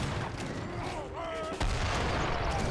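Fixed gun artillery firing in an Age of Empires 3 battle, a heavy booming shot arriving mid-clip over dense gunfire and game battle noise.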